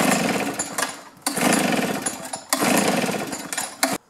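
A two-cycle string trimmer engine runs at half choke, its buzzing drone surging and dropping in three rough bursts with brief lulls between, close and fairly loud.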